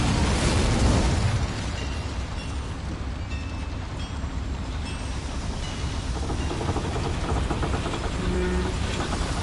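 An Incendio fire spell in Hogwarts Legacy, cast inside a mine, bursts with a loud whoosh and then settles into a steady, roaring fiery rush with faint metallic clinks; no talking.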